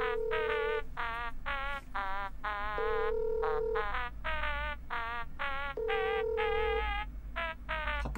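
A phone rings with a warbling electronic ringtone, repeating bursts of chirping tones in a steady pattern, close and clear against a low background hum.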